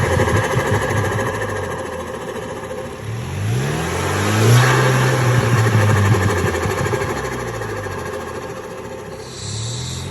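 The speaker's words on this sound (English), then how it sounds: "Go ahead and give it gas." Car engine with an upgraded intake and a Burger tuner, set in sport mode, revs up hard, rising to a loud sustained peak mid-clip before easing back, with a strong droning intake roar throughout.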